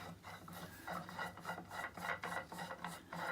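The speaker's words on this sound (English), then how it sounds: "this one unscrews. That just simply unscrews. Wood screw." Wood screw being turned out of a spinning wheel, giving a steady dry rasping and rubbing of threads in wood, repeated in short close strokes with no talking.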